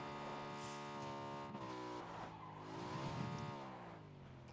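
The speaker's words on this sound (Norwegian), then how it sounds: "Der kom en bil da" A car engine in the video game PUBG hums with a steady, sustained drone that climbs and dips in pitch as it drives, fairly close, heard alone.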